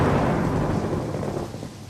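A thunderstorm with wind gives a loud, broad rumble of thunder that rolls on and slowly fades over a wash of storm noise, with no voices.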